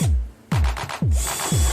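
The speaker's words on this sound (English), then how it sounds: "Right now I'm drilling the holes to where I can mount it on the bike." Drill boring holes in a thin steel plate for a relocated gas tank mount on a Massimo MB200S, in four short bursts that each start with a sharp bite and wind down, close and loud with no talk.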